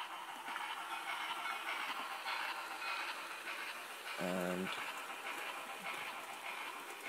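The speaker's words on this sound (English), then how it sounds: "move the Devon Bell steam train forwards" A Hornby model steam train, the Devon Belle, runs on a DCC-controlled layout with a steady, faint rushing hiss. A short tonal burst cuts in partway through, and a voice speaks briefly.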